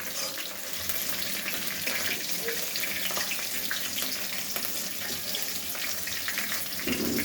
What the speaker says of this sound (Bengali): এখন আমি এই যে জিরা, কাঁচা জিরা ফোড়ন দিলাম।